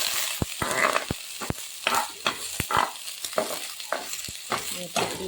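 A spoon stirs food in a frying pan in a home kitchen, with irregular scraping strokes and clinks repeating close by over a soft sizzle, no talk.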